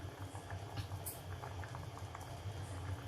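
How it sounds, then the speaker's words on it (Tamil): A thick curry bubbles and pops steadily in a pot over medium flame, soft close blips over a low simmering hiss. "மீடியம் ஃப்ளேம்ல வச்சு நல்லா ஒரு 2 நிமிஷம் கொதிக்கணும்."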